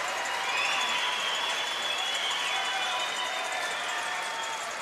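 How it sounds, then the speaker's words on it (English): Arena applause for the Canadian team walking off after a women's world curling championship game, a dense, continuous wash of clapping from a large crowd at moderate distance, with no voices in the clip. "you can hear the applause there for that Canadian team as they walk off"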